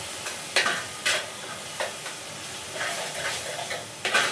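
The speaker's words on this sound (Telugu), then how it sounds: "అందుకోసమని అల్లం వెల్లిగడ్డ పేస్ట్ మంచిగా ఫ్రై అవ్వనిద్దాము." Ginger garlic paste frying in a pan for chicken dum biryani, a steady sizzle broken by several sharp scraping stirs close by, with no voices.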